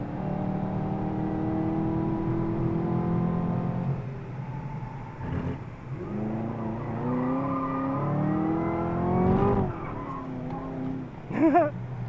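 A Chevy Camaro being drifted around Dubai, its engine revving and climbing through gears with rising and falling pitch, broken by brief tire squeals and skids, fairly steady and close.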